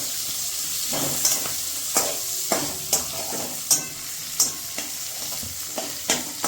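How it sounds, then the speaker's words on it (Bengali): Onions frying in a pan for a yogurt katla fish curry, a close constant sizzle broken by regular scraping strokes of a spatula, no voices. "এখানে পেঁয়াজ ভাজা হচ্ছে"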